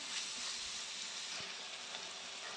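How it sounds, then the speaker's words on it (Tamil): Onion and tomato are sautéed in a pan for banana stem kootu, an unbroken close sizzle of frying with a soft thump of the spatula partway through. "தக்காளியும் கொஞ்சம் நல்லா வதங்கட்டும் அது வரைக்கும் கொஞ்சம் நல்லா வதக்கி விடலாம்"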